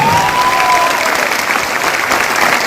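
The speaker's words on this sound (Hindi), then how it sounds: "हमारे ग्रेट लीडर रवि सर के लिए अभी तक की सबसे जोरदार ताली।" An audience at a business presentation gives loud, sustained applause for a few seconds. A brief whistle rises over the clapping near the start.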